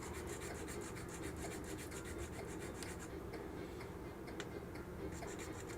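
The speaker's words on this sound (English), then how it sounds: "I'm going to shave this down, flatten out this carb mount" Close, quiet scraping and rasping as a plastic model carburetor mount on a Ford FD-100 build is shaved flat, in rapid repeated strokes with small ticks and no talking.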